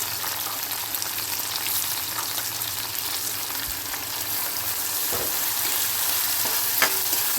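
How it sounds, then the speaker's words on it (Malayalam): Onions, green chillies and curry leaves sautéing in a pan for a Thrissur-style beef and tapioca curry: steady, close sizzling and frying hiss throughout, with occasional stirring scrapes and no talking. "കൂടി ഇട്ട് നന്നായി വഴക്കിയെടുക്കാം"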